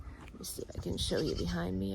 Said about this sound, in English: You can hear the goats in the background complaining.